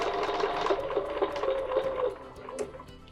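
A quilting sewing machine stitches with a steady mechanical whir and light ticking pulses, close and fairly loud, running continuously while it sews a nested petal pattern.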